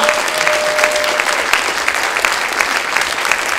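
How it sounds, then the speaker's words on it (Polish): Audience at a Toastmasters Leadership Institute event giving loud, steady applause, a dense crackle of many hands clapping close by without pause. "Jeszcze raz oklaski, dziękujemy, zapraszamy na miejsca"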